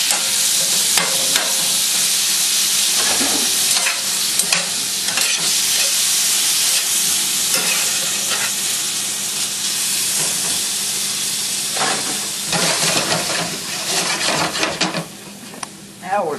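Steady, loud sizzling and hissing of meat frying in olive oil in a pan over coals, continuous throughout with occasional sharper crackles and stirring noises.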